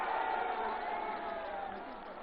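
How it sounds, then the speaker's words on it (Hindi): At an outdoor election rally, a large crowd greets a young man with a dense, steady roar of clapping and cheering that fades slightly toward the end. "जोरदार ताली बजा के नौजवान का स्वागत करिए"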